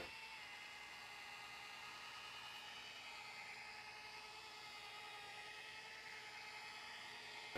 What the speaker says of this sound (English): We're using the headlight restore with our Torque R rotary polisher.